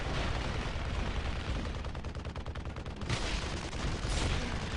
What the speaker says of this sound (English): He does now float to the force field to try and dodge this Merv launcher from Krytos.